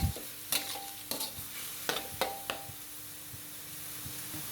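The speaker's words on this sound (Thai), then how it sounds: "แล้วก็ผัดต่อเลยครับ ให้หมูสับของเรา สุก ร้อยเปอร์เซ็นต์เลย" Minced pork stir-fries in a pan for a tofu-and-egg basil dish, a soft sizzle under a few sharp spatula scrapes and clacks early on, then a quieter hiss, close and fairly faint.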